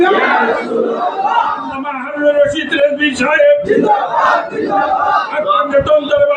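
A large crowd at a religious sermon chants loudly and in unison in response to a takbir call, the voices swelling together and sustained over several seconds.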